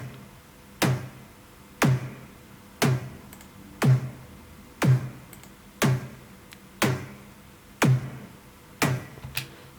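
Ten punchy hits of a synthesized EDM snare drum with its compressor engaged land evenly about once a second, each a tight snappy crack with a short low thump and quick decay, close and without speech.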